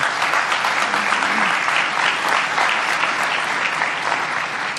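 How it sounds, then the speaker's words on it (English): Steady, fairly loud clapping from an audience at a press conference with Canadian Prime Minister Justin Trudeau, a dense even wash of many hands that carries on throughout. "the clapping really cuts into the time"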